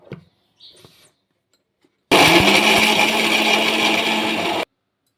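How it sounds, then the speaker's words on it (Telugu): An electric mixer grinder whirs loudly and steadily for about two and a half seconds as it grinds fresh coconut in its jar, starting and stopping abruptly after a few faint clicks. "జారీలోకి పచ్చి కొబ్బరి తీసుకున్న, మిక్సీ పట్టాలి"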